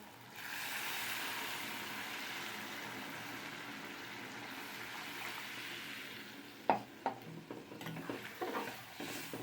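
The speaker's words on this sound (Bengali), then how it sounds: "আমি এর মধ্যে এবার জল দিয়ে দেবো। একটু উষ্ণ গরম জলই দিলাম।" Warm water poured into fried spice masala in a pan gives a broad rushing hiss that settles into a steady bubbling sizzle, followed near the end by a few sharp utensil knocks and clatters.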